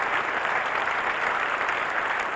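The Wimbledon crowd at the 1973 women's singles final applauds Chris Evert, with sustained, dense clapping from a large audience that holds steady throughout.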